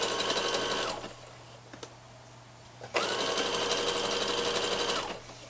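An overlocker stitches a sweatshirt seam in two steady, buzzing runs, each about a second or two long and separated by a short quiet pause, loud and close.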